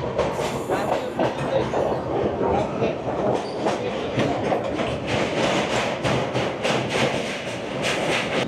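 The Himgiri Express runs along the rails with a loud, continuous rumbling clatter and rhythmic wheel clicks, heard from inside the moving train.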